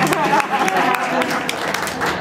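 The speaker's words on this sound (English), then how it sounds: "I think you all deserve a round of applause for yourselves" An audience at a dog volunteer event breaks into applause, a dense patter of many hands clapping at close to moderate distance, with speech overlapping the clapping.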